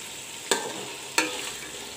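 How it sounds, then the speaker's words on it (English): Mutton and masala browning in a hot pan, giving a continuous bright sizzle broken by two distinct stirring scrapes about half a second apart. "You can see the masalas are browned up well with the meat."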